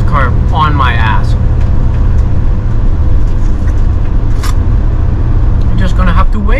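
A car driving on the road, a steady low engine and road rumble running loud and continuous throughout, with people talking over it inside the vehicle.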